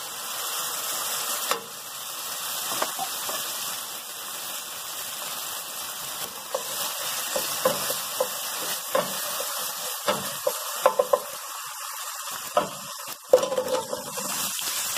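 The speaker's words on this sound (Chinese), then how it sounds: "爆一爆片姜、陈皮、 再加埋沟好嘅酱汁。" Ginger slices and dried tangerine peel stir-frying in a hot wok, a steady bright sizzle with frequent scraping and clicking spatula strokes, close and loud with no talking.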